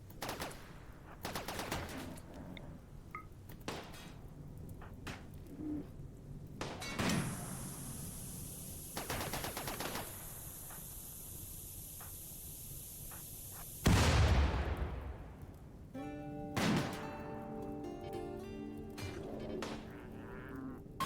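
Bursts of gunfire from the Rimworld video game crackle in several clusters, joined by a loud sliding, door-like sweep and a heavy thump midway, with game music tones near the end.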